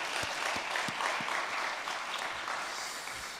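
A church congregation at a dawn prayer service claps together in a short burst of applause, a dense even patter of many hands that slowly fades toward the end.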